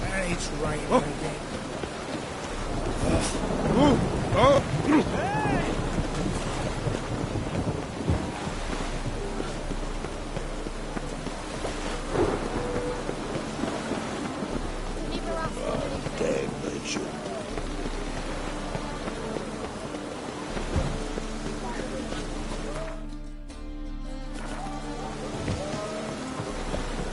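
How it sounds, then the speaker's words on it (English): Rainfall in The Witcher 3, a steady hiss of rain on surfaces with faint low rumbles of thunder, heard under game sounds and some voices, with a brief sharp disturbance near the end. "It's raining again."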